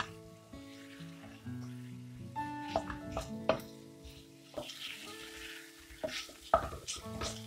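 Spice powders fry in a pan as they're stirred for a chicken gravy, with quiet scraping and a light sizzle under a bed of background music, punctuated by several clear utensil taps.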